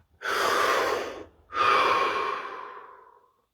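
Two deep breaths, each a long, close airy inhale or exhale with a brief pause between them, heard alone in a quiet room.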